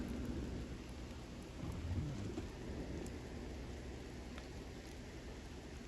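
Rain drums steadily on a parked car in Florida, heard from inside as a soft, continuous patter with a low rumble swelling briefly near the middle, fairly quiet and with no talk.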